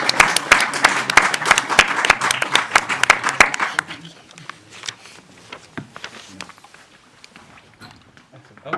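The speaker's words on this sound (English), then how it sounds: "I'll give you a clap." Audience at a school visit clapping: a brisk burst of crowd applause for about four seconds, fairly close, then fading into scattered murmurs and faint movement.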